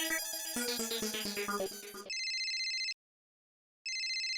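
Telephone ringing: a musical ringtone melody plays for about two seconds, then a bright electronic ring tone repeats in two bursts with a short silent gap between them, loud and close.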